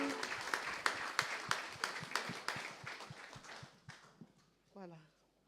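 A small church congregation gives Maman Léa a round of applause during a service, sparse rhythmic clapping that gradually fades, with a voice speaking near the end.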